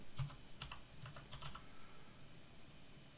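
Rapid typing on a computer keyboard, a close run of light key clacks over a steady background hum, tapering off toward the end.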